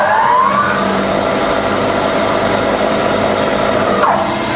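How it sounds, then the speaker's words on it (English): A Bridgeport milling machine's belt-drive motor runs at speed, a loud, steady mechanical hum and whir close by, with a short whine sweeping through as it shifts near the start and again near the end. "firing up on the motor, that's the first speed, that's the second speed"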